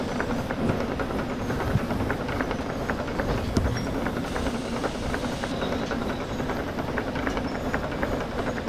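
A steam locomotive runs steadily in the Derail Valley VR railway game, a continuous dense rumble of wheels and chuffing with occasional clanks, loud and unbroken throughout.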